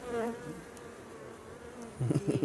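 Honeybees humming around an open hive during an inspection, a faint, low buzz that swells into louder, closer buzzing passes near the end.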